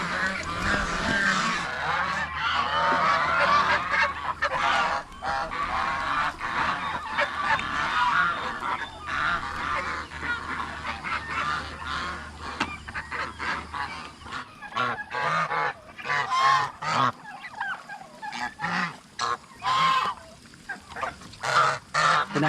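Geese honk repeatedly on a farm, loud nasal calls mixed with duck quacks from a flock of fowl, some close and some farther off, with little talk.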